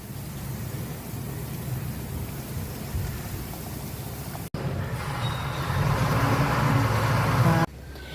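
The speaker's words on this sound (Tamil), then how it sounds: "டீப் ஃப்ரை பண்ணுறதுக்காக கடாயில் ஆயில் நல்லா ஹீட் ஆகிடுச்சு. இப்போ நான் ஒன்று ஒன்றா போட்டு பொரித்து எடுத்துக்க போகிறேன்." Broccoli cheese balls deep frying in hot oil, giving a steady crackling sizzle throughout that swells louder toward the end before dropping off.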